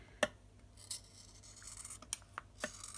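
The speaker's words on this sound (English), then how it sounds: "I get some really good sharp scissors, and then I cut my stamps down." Several sharp, quiet snips of scissors cutting rubber stamps, spaced irregularly, with faint rustling between them and no voices.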